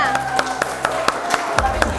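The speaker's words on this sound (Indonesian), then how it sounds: "Oke, sudah tepuk tangannya" Several sharp claps in a steady rhythm in an indoor classroom setting, a small group clapping at close range over a murmur of voices and room noise.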